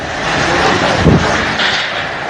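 Cyclone Nisarga's strong wind and rain roar in a constant, loud broadband rush, buffeting the microphone with a heavier gust surge midway, no voices.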